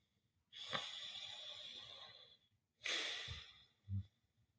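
Slow, deep breaths in and out during a guided meditation, two long airy breaths followed by a short exhale, close to the microphone and alone.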